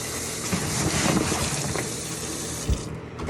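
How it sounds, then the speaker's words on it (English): Tap water runs into a sink while a protective apron is washed with soap during PPE decontamination, a loud steady splash and rush with a few brief knocks and no voices. "we're going to put it in the sink and we're going to wash it with soap and water as well"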